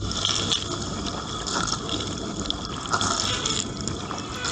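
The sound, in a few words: transparent dishwasher pumping water inside at cycle start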